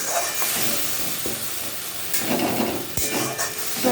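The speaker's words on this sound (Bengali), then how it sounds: "আবারও ভালো করে কষাবো" Masala paste sizzles and hisses in a hot pan while being stirred and sautéed, with steady frying noise and occasional scraping knocks of a spoon against the pan, close and continuous without talk.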